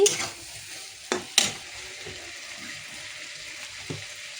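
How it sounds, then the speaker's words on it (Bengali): A vegetable bhaji frying in a pan, a steady moderate sizzle with a few sharp clinks and scrapes of a spatula, and a faint trickle of water in the background. "এই যে ভাজি বানাইতেছি"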